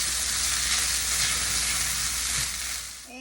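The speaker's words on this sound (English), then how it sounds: "I'm going to add 3 tablespoons of tomato paste. And I'm going to mix that in and let that cook" Tomato paste cooking in a pot gives off a loud, steady, close sizzle and fry that runs throughout and eases slightly at the end, with no talking.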